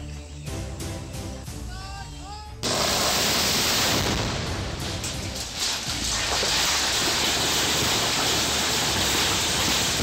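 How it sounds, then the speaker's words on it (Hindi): Rock blasting explosion at a quarry site: after a few seconds of background tones, a sudden loud broadband roar bursts in and stays sustained like a heavy shower of falling stones and debris. "यह धमाका बारूदी बम का नहीं बल्कि चट्टान को तोड़ने के दौरान किया गया"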